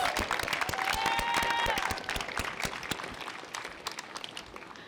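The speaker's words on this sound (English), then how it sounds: "Clap for yourselves." Eighth-grade graduates applaud themselves at their graduation ceremony, a steady crowd of clapping with a brief whoop or cheer over it, gradually tapering off.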